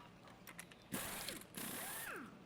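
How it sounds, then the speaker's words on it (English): A ratchet with a 13 mm socket zips the transmission pump bolts off a 2002 Cadillac. Rapid clicking pawl runs sound close and alone, in two quick bursts. "Get the pump bolts off here."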